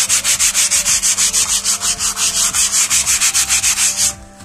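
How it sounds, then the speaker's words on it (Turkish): A hand fret saw cuts through pine wood in a fast, even back-and-forth rhythm of loud, raspy strokes, about six per second, close up, ending abruptly after four seconds. "Bu parçada çam ağacı olduğu için çok zor kesildi."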